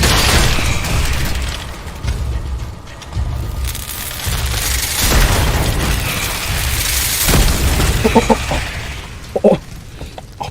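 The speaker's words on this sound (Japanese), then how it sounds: "勝手に爆発したぞ。" Heavy booming blasts in the Steelrising video game, a loud rolling explosion with rumbling debris and scattered sharp cracks and pops that fade into clattering aftershocks.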